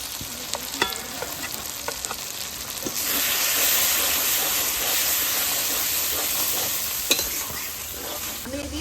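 Ground coriander, cumin, chilli powder and roasted cumin powder fry in a pan with oil, crackling under scraping stirs, then the sizzle swells into a louder, steady hiss after a few seconds, with occasional sharp clicks of the spatula.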